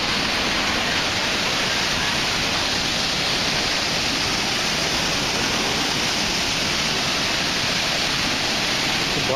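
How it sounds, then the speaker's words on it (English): Rapids on the Black River along the Taum Sauk section of the Ozark Trail give off a constant, loud rushing roar of whitewater that stays steady and unbroken throughout. "The Black River."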